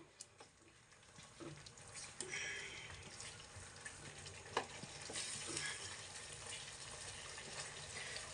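Jaggery halwa with ghee cooks in a pan while it is stirred. A quiet, continuous sizzle runs under soft repeated scraping and a few small knocks of the spoon. No one speaks.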